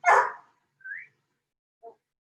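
A dog gives one loud bark near the microphone in a quiet indoor workout space, followed by a brief high whine and a faint short yip, with no talking.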